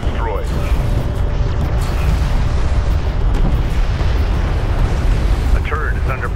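A hostile craft blows up during a space battle in the Homeworld strategy game, heard as loud, sustained rumbling explosion noise with a deep boom under continuous battle din and brief bursts, close and dense throughout.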